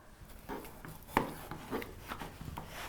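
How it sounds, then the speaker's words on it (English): A knife dicing red and yellow bell pepper on a cutting board, a handful of irregular close chops and scrapes with faint room noise between them. "So we're going to go ahead and start chopping."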